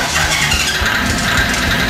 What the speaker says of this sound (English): When the light goes off, after 20 seconds, we can start the car.